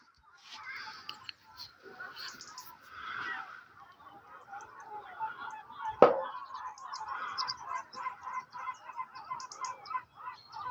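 A flock of gulls calls at Lac du Salagou, scattered squawks and honking cries overlapping at moderate distance across the lake, with one sharp knock midway and no talk.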